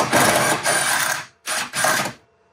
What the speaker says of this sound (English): All right, bolt spinning.